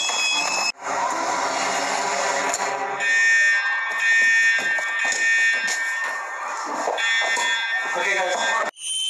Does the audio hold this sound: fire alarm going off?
yes